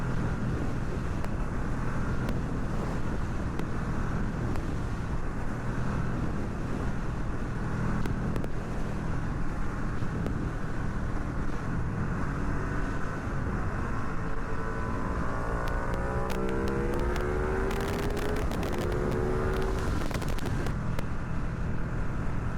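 A Ducati Streetfighter V2 motorcycle on the move, heard as a constant loud rush of wind buffeting the microphone over a steady engine drone, with a brief wavering rise in engine pitch near the end.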